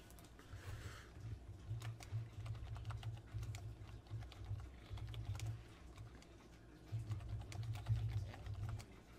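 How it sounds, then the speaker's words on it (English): Rapid keystrokes on a computer keyboard clatter steadily throughout, with irregular clicks over a low background hum. "Oh, I am typing in the rules."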